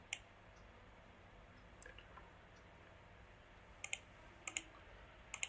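A few sharp, faint computer mouse clicks are heard in a quiet room while saving a map as a PDF in QGIS, spaced irregularly, with a quick pair near the end.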